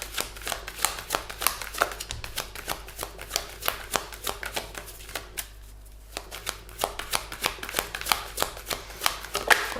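A deck of oracle cards is shuffled close by in quick, steady riffling bursts with a brief pause midway, and no talking over it.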